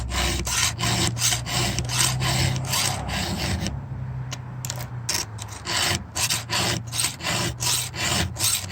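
Hand file rasping across a firewood chainsaw chain in quick rhythmic strokes, a steady scraping beat with a short pause midway before the strokes resume, close and clear with no talk.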